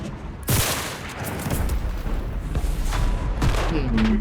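Gunfire in the video game Enlisted: a sharp shot opens a dense stretch of battle noise, with more bursts and booms layered over a continuous rumble. The firing sounds fairly loud and busy, and no clear talk stands out.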